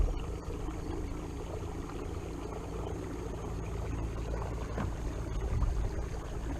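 Motorized Sundolphin Excursion 12 kayak cruising on a reservoir, a steady low motor drone with water wash and wind buffeting, close and continuous, with a few brief knocks near the end.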